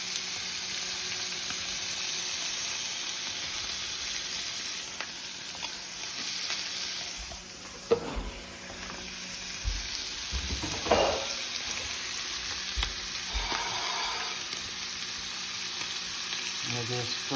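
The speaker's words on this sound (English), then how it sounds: "We'll just fry it for a bit" Elk tongue fries in a pan with a steady close sizzle, broken by a few stirring scrapes and clicks.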